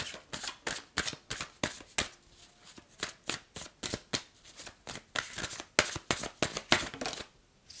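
Tarot cards are shuffled in quick rhythmic riffles, a steady series of sharp papery flicks, close and clear, with no talking.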